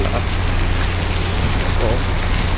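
Heavy rain pours down suddenly on the road near Allen port, a dense, loud and unbroken hiss of water that fills the whole moment.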